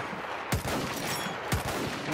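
Two sharp, loud gunshots about a second apart, sniper-like cracks over a constant background of distant battlefield gunfire in a Conquest video game match.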